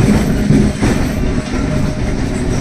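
A Gogaghat-bound local train from Howrah toward Kamarpukur rumbles along steadily, with loud continuous wheel and carriage noise and rail clatter heard from on board throughout.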